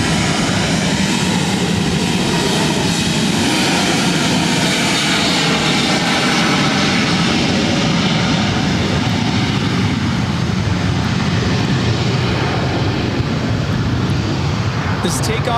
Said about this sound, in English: This takeoff is United Airlines 1897, taking off to Denver on the 737-800.